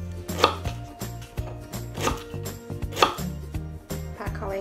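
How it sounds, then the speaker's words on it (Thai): A knife roughly chops lemongrass rapidly and steadily on a cutting board, with crisp repeated thunks and no talking. "หั่นหยาบๆก็พอค่ะ สุดท้ายก็จะเป็นตะไคร้นะคะ"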